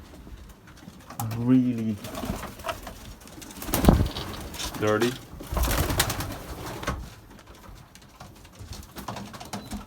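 Racing pigeons coo in a loft, soft rolling calls repeating several times at close range, with a person speaking briefly between them.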